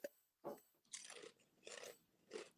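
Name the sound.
crunch of biting into a snack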